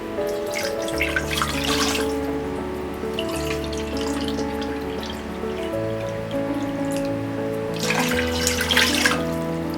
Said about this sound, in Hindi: वेसल में डालेंगे 8 कप पानी